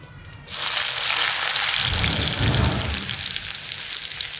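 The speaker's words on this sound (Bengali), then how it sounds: "গরম তেলে আগে পেঁয়াজ কুচিগুলোই দেব।" Chopped onions dropped into hot oil for a Bengali potato mutton curry, bursting into a loud, steady crackling sizzle after a quiet start and holding dense and close throughout, with no talking.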